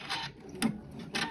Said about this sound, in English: You want to stitch and give yourself a tiny stitch right there across the elastic